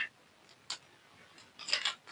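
A small packet, sealed with tape, being torn open by hand: two short papery ripping bursts, the second longer and crinkly, close and fairly quiet with no talking.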